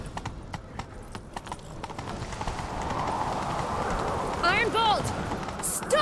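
Horses gallop in The Witcher 3, a steady stream of hoofbeats that grows louder partway through, heard under in-game talk and effects.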